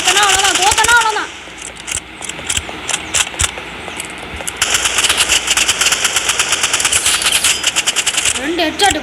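Rapid automatic gunfire from the Roblox Rivals video game fires in long, loud, evenly spaced bursts with single shots between them. Voices talk briefly at the start and at the end.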